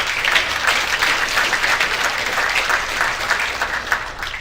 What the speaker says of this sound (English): give Cherie Tolson a round of applause